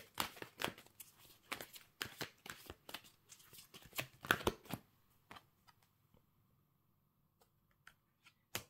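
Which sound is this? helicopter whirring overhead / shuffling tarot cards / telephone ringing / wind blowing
shuffling tarot cards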